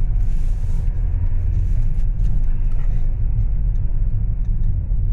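Steady, loud low rumble of a car driving along a city street under construction, heard from a moving vehicle following another car, with faint clicks and rattles over the continuous engine and road noise.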